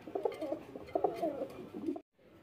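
Pigeons coo at a pigeon market, several soft throaty burbling calls close by and repeated for about two seconds before a sudden break into near silence, with faint background noise.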